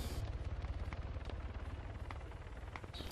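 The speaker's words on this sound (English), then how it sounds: "I can hear a heli flying over." A helicopter flying over in Arma 3 fills the background with a steady rotor thrum, low and continuous, with a few faint sharp gunfire cracks scattered over it.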